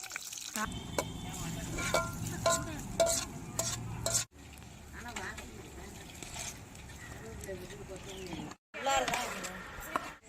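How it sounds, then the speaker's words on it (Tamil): Cashews fry in hot ghee for a kesari tempering, sizzling steadily while a spoon stirs and scrapes the pan. The sound comes close and fairly loud, with a couple of brief breaks. "இப்போ தாளித்து கொட்டுறதுக்கு நெய் ஊற்றியாச்சு முந்திரி பருப்பு கொட்டுக்கலாம்"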